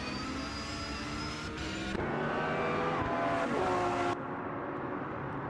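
Race cars in the game Motor Mania roar past with steady high engine whine and rising and falling pitch as they shift through corners, continuous and fairly loud, then thinning out at the end.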